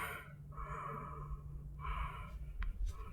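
A person holding a Hatha yoga pose breathes audibly, with two long slow breaths rising and falling close by and a few brief sharper sniffs at the end.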